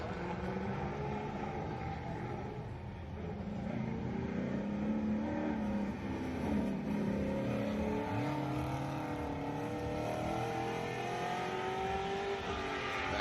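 A drift car's engine revs and wails through rising and falling pitch sweeps on a wet track at a Formula Drift event in Atlanta, loud and sustained, with no speech over it.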